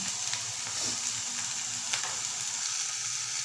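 Curry leaves, coriander and carrot fry in a pan for crumbled roti upma, giving a steady, close sizzling hiss with a few soft stirring scrapes and no talk.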